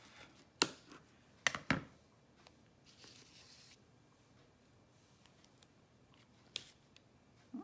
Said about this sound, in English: My big adhesive scissors and chop that off.